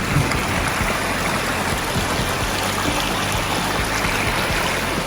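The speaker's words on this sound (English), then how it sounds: "nice creek." A creek flows steadily beside a campsite in Nevada, a continuous close rush and trickle of water holding an even level throughout with no talk.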